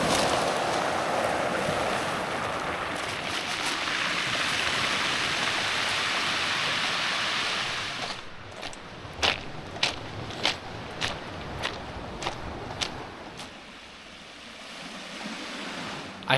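Ocean waves on a Vancouver Island pebble beach rush in as a broad hiss. Then they draw back with a string of sharp clattering pulses as the pebbles roll over each other, and the sound fades to a quieter wash.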